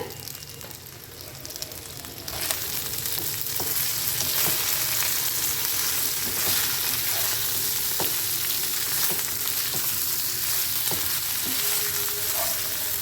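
Okra (bhindi) with a little salt sizzles in a pan, cooking as a dry vegetable dish: a steady, dense frying hiss that jumps louder after a couple of seconds and then holds, with occasional soft clinks.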